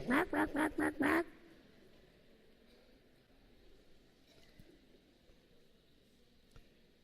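Five loud, evenly spaced duck quacks in quick succession open the recording, then stop, leaving only faint low background noise for the rest.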